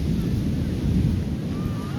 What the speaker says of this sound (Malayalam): ഭയങ്കര തിരുമാറി അടിക്കുന്നു.